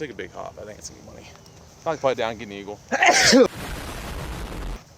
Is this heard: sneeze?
yes